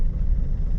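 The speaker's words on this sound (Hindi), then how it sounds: "हमारी गाड़ी चल रही है।" A car creeping forward at low speed during a driving lesson, its engine running with a low, steady rumble close inside the cabin.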